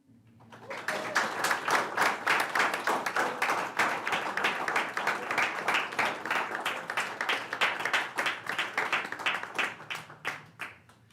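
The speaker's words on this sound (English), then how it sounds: "Give yourself a round of applause." Attendees at a city council meeting give a round of applause, sparse individual claps at first that swell into sustained clapping with distinct hand strikes, then thin out over about eleven seconds.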